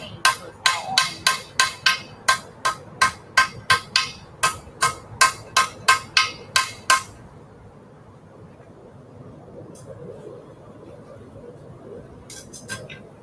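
Blacksmith's hammer strikes hot orange steel over the edge of an anvil, used like a fuller: about nineteen sharp, ringing blows in a steady rapid rhythm, close and loud, then stopping with a low room murmur left behind.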